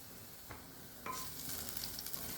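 Turmeric and asafoetida fry in hot oil in a pan for a spinach dal, a soft steady sizzle with a couple of spoon clinks and a brief scrape partway through, no speech.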